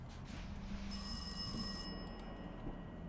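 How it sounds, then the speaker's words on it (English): A telephone rings in the horror video game Rise of Insanity, a bright electronic bell trill lasting about a second over a low, quiet ambient drone, heard once and fairly faint. "There's another phone ringing."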